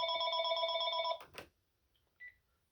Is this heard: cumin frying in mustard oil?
no